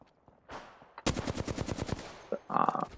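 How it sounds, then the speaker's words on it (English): Gunfire in the Apex Legends video game rings out as a rapid automatic burst of close, loud shots, followed by a brief bright mechanical tone, with no talking. "Firing."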